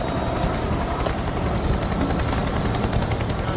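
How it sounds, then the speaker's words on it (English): An offshore helicopter flies over the North Sea with a loud, continuous rotor and engine roar that holds steady, close and unbroken. "There are more of these helicopters flying offshore here than anywhere else in the world."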